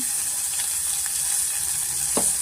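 Oil sizzles steadily in a pan as turmeric goes in, a constant bright hiss close by, broken by a few faint clinks and one scrape near the end, with no talking.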